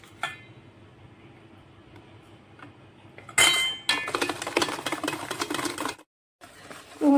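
Eggs being whisked in a bowl for an egg cake, heard as fast, rhythmic metallic clatter of the whisk against the bowl, loud and close, after a quieter opening with a few light clinks.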